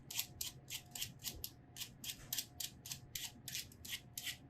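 Rhythmic scraping strokes of a peeler drawn along a halved squash, repeating about three times a second, close and crisp, with no talk.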